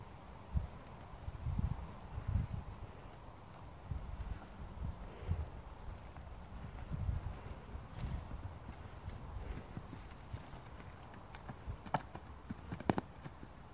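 A pony's hooves clip-clop at a walking pace, irregular clustered hoof strikes on hard ground with occasional rustling, fairly close and moderate in level.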